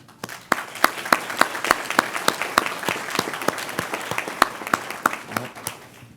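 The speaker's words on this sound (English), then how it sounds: "Give a round of applause for our national anthem." Audience applause at a DeKalb County police academy graduation ceremony, a steady wash of many hands clapping for about six seconds with sharp individual claps standing out near the front, fading slightly at the end.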